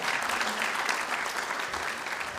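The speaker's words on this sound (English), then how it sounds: "Please give a warm round of applause for Shweta." Warm applause from an audience at a devotional gathering at Bhaktivedanta Manor, honoring a performer; steady, dense clapping fills the whole stretch at moderate level with no voices.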